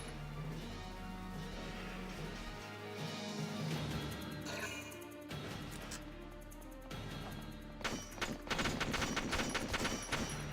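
Video game battle with bursts of machine gun fire from a shock trooper unit, rapid rattling volleys and crashes over a steady music bed, the firing growing denser and louder toward the end.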